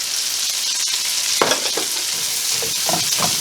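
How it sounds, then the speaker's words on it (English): Onions and shallots sizzle steadily in a hot pan, a bright continuous crackle with a few louder stirring scrapes and knocks partway through, close and alone without talk. "Once the shallots get translucent and sweated, put in the onions"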